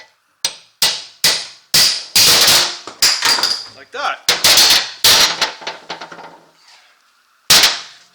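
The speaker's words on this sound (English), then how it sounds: "Supposedly this is supposed to come off just by banging it off" Sharp metallic hammer blows knocking a worn, damaged CV joint apart while it is held in a vise, a run of loud evenly spaced strikes followed by a quicker cluster and one final hit, with a brief voice.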